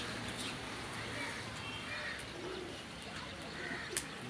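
Pigeons coo softly near a family home as they return from flight, low faint calls against a steady background hum, with one sharp tap near the end.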